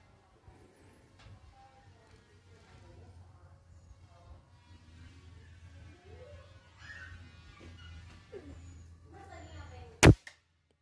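A pump air rifle fires at cotton buds set 25 m away: a single sharp, loud crack stands out near the end after a quiet, low background with faint talk.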